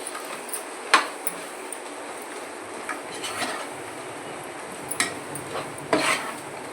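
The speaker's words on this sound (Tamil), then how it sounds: "சரி அது நல்லா தேங்காயை போட்டு கிளறி விட்டாச்சுங்க." Chicken curry with ground coconut paste being stirred in a pot, giving soft scraping and occasional clinks of the spoon against the vessel over a steady low background.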